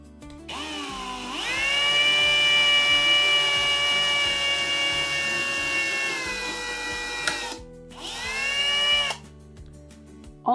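Drill making holes for drawer handles on a painted bedroom furniture piece, a motor whine rising and holding for several seconds, stopping, then a second shorter burst, close and without voices.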